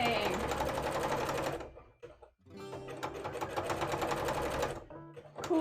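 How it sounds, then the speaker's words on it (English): A sewing machine runs a zigzag stitch up close in two long whirring bursts with a brief pause between, fast rhythmic needle chatter, loud and clear. "Sewing!"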